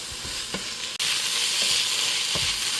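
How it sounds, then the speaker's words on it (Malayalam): Green chillies and curry leaves sautéing in a hot pan for an egg puff filling, a steady close sizzle with a few soft spoon scrapes and clinks from stirring and a brief dip in the sound early on. "അപ്പോൾ ഈ സമയത്ത് നമുക്ക് കുറച്ച് പച്ചമുളകും വേപ്പിലയും നമ്മൾ എടുത്ത് വെച്ചത് ഇട്ട് കൊടുത്ത് ഒന്നും കൂടി മിക്സ് ചെയ്യാം"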